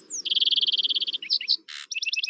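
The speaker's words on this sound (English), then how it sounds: "one example of that is the summer tanager here. So I'll play the tanager." Recorded song of a summer tanager played back: a fast run of clear, repeated chirping notes, then a few slurred phrases and a buzzy burst, then more quick notes, loud and close against a quiet background.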